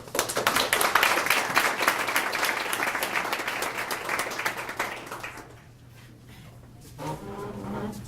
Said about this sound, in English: I hope that applause was for the scholarship recipient and not for me.